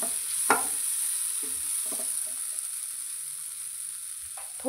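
Spices for masala bhindi, salt added, fry in a pan with a soft steady sizzle and a few sharp spoon scrapes and taps, quiet and close.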